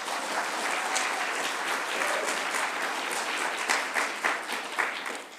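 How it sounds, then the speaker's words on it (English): Audience applause at a 2019 Malden mayoral forum, welcoming panelist Sharon Fillyaw: steady, dense clapping from a roomful of people, holding level throughout with a few sharper individual claps standing out near the end. "Please, you can give her applause."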